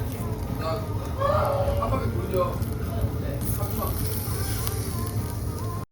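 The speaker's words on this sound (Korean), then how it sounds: "오른쪽에 양꼬치 3개 먼저 구워봅니다." Lamb and other meat skewers turning on a rotating grill over a charcoal fire at a Chinese-style lamb skewer restaurant, with steady sizzling and crackling under restaurant chatter and nearby voices throughout.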